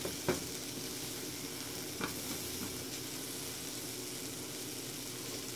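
Sausage sizzling and browning in a frying pan for a sausage and pepper breakfast, a steady soft crackle with a couple of brief clinks or pops near the start.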